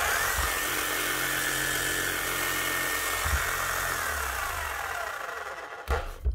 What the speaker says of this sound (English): Motor's running and she's hammering.